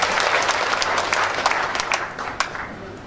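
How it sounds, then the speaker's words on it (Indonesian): Church congregation applause, dense and continuous clapping from many hands filling the space at a steady loud level, tapering slightly toward the end. "Kita berikan tepuk tangan dulu buat Bapak dan Nasya."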